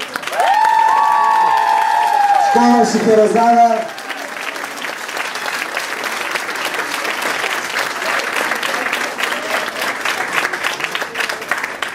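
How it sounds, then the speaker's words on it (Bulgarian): An audience at a street-salsa school's tenth-anniversary show breaks into sustained, dense applause for the dancer Vili. Voiced sound and a spoken line come first, then steady clapping carries on for several seconds. "Аплодисменти за Вили."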